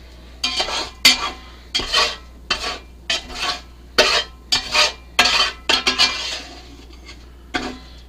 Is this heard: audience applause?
no